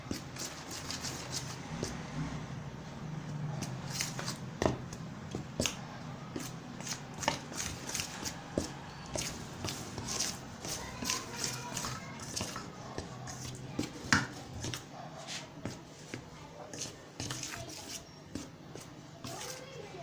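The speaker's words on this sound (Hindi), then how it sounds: "अब इसको पहले हम अच्छे तरीके से मिक्स करते हैं।" Flour and salt are mixed by hand in a bowl for halwa puri dough, making a steady rustling, scraping patter of close, soft crackles throughout.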